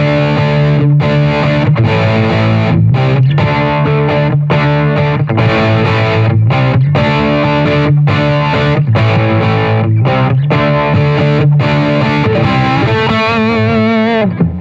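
Electric guitar through a Bogner Ecstasy Mini distortion pedal set to high-gain mode, loud saturated chords chugged in a steady rhythmic riff with short gaps between hits, played alone without talking.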